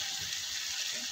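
Hot water pours into mutton curry cooking in a pressure cooker, giving a steady bright hiss and sizzle, close and continuous, with low speech murmuring beneath.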